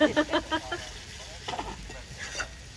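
Masala spices roasting on a wood-fired chulha stove, a soft crackling sizzle with stirring scrapes under women's conversation in a village courtyard kitchen, the voices louder at first and the sizzle running beneath throughout.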